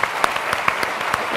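Applause from the audience at a legal convention panel on defending the judiciary, a brief burst of scattered claps standing out sharply over a steady wash of clapping, fairly close.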